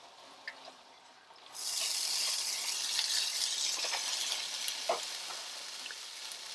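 Shredded cheese hits a hot non-stick skillet on a burner and breaks into a bright, steady sizzle that holds for several seconds, close and fairly quiet with a few small pops and scrapes.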